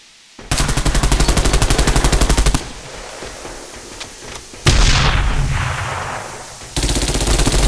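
A grenade explosion in the online shooter Bullet Run: one sharp, loud blast with a fading tail, framed by long stretches of rapid automatic gunfire before and after.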